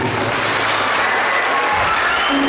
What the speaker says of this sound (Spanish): un gran aplauso para los que están allá arriba